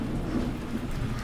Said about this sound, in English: Rain streaks the window.